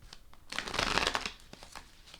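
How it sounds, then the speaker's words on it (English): Tarot cards being shuffled by hand on a table, a close riffling burst of papery flutter and slaps that swells for about a second, then trails off into a few soft, scattered card taps. "Oh, I'm not shuffling very good this morning."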